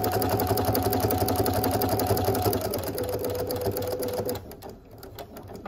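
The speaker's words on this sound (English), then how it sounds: "I'm going to be very careful here when I'm doing my top stitch, just to make sure that I grab those edges" A sewing machine top stitches the edges of a fabric bowl cozy, its motor humming with a rapid, steady needle chatter up close before it slows and briefly drops off near the end.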